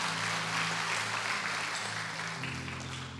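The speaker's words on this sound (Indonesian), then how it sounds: "Berikan tepuk tangan betul." A church congregation applauds together, a thick continuous wash of clapping that stays strong throughout the short stretch, with a low sustained tone beneath it.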